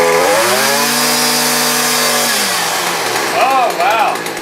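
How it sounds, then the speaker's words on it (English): A string trimmer spins first with round line and then with twisted triangular line, a steady, close, buzzing engine whine that shifts in pitch partway through, with brief rising chirps near the end. "listen to the side by side of the round line and the twisted triangular line and see how much quieter it is."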